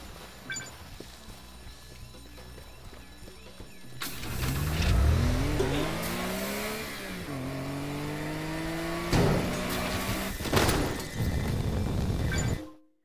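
A car engine in the Teardown video game starts up and revs, rising and falling in pitch over several seconds, loud and close with sharp bangs near the end.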